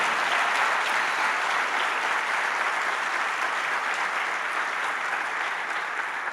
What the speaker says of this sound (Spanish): Vamos a darle fuerte ese aplauso.